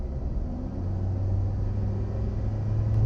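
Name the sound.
Ford Ranger T6 engine induction noise with mesh air filter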